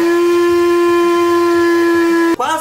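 A blender motor whines at a steady, high pitch while mixing cornmeal into homemade hair dye, then abruptly stops with a brief clatter near the end.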